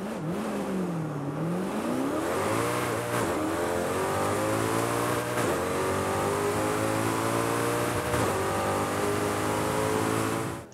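A Koenigsegg CCX engine in Forza Horizon 5 revs hard, its pitch sweeping down and climbing again through several shifts, loud and continuous for the whole stretch.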